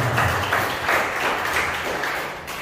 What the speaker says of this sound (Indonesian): Berikan tepuk tangan untuk Yesus yang luar biasa